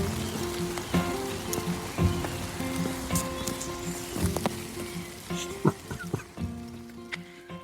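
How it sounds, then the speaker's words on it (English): Steady rain falling on a hard surface, with irregular louder drips and taps landing close by over a continuous patter; faint tonal hum underneath and no voices. "I'll let you listen to the rain"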